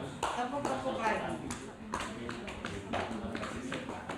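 Hands pat a baby's body in quick repeated soft slaps during a gross motor exercise, each pat close and sharp, coming in an irregular rhythm while someone talks over them.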